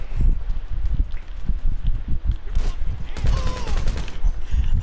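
Shotgun and other gunfire in a GTA 5 Online alien invasion match, a steady run of close, punchy shots with a voice briefly heard partway through.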